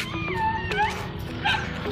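Dogs outdoors at a plein air painting spot give faint whimpering yips and short wavering howls, a few brief calls spread across the moment at moderate distance.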